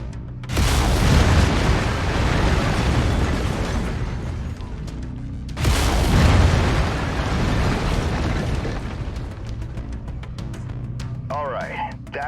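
Mech in MechWarrior 5 firing its laser weapon group, giving two loud booming blasts that each roll on into a long sustained roar, with a faint whine rising near the end.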